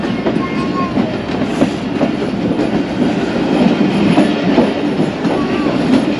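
Overnight passenger train rolling into Arawan junction near Lahore, a steady loud rumble of wheels and carriages with faint rhythmic clatter throughout.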